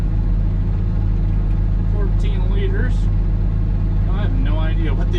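A Cummins 855A diesel engine in a 9280 tractor seeding a field runs as a loud, steady low drone throughout, with someone talking over it.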